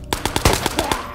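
Rapid automatic gunfire in the Ghosts of Tabor VR shooter, about seven loud close shots in just over a second with a sharp, even rhythm, mostly unmasked by talk.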